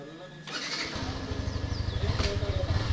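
A Yamaha FZ motorcycle engine starts after a short crank, then settles into a close, steady, pulsing idle that grows slightly louder.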